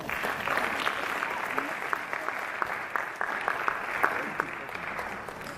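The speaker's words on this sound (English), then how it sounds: "Let's give her a round of applause." Steady applause from an awards ceremony audience, continuous clapping throughout with a few louder individual claps standing out, no talking.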